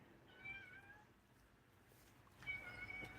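A cat meowing, two drawn-out cries separated by a short pause, moderately close but fairly quiet against a low background hum.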